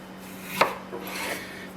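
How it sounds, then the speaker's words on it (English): A knife cuts once through a peeled potato, slicing it thickly for chips: a single crisp chop against the board, followed by faint scraping. "We're going to cut it into nice thick slices."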